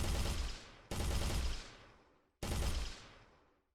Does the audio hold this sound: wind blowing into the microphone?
no